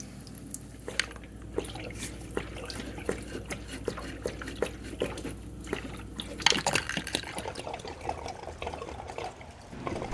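Water drains steadily from the plugs of a Hayward pool pump being winterized, a soft trickle with scattered drips and splashes running throughout, briefly heavier and louder midway.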